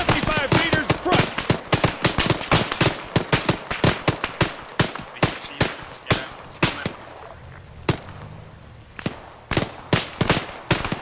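Machine gun fire in a military video game battle: loud, close rapid bursts of automatic fire that thin out into sparser single shots and short volleys, with no clear speech.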